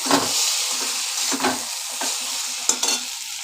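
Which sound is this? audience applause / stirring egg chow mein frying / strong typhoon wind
stirring egg chow mein frying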